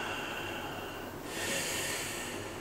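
A man breathing heavily and sharply through the nose during a deep foot reflexology massage with massage tools, a close, noisy snorting exhale that intensifies midway through the short stretch.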